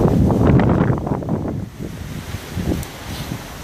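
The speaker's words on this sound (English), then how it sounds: "It is pretty windy today." Gusty wind buffets the microphone with a rough roar that swells and eases, mixed with light rustling of a tarp tent.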